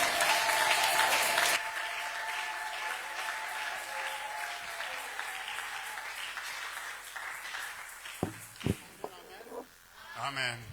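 A church congregation at a conference service applauds, a dense burst of clapping mixed with sustained music tones that cuts off after about a second and a half, leaving scattered claps, murmurs and a few sharp knocks.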